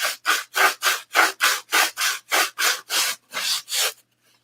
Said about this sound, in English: I do a lot of sanding with some pretty heavy duty sandpaper